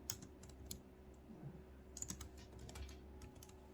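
Someone types on a computer keyboard in MS Word, making a few soft, close keystroke taps in short clusters against a quiet room hum.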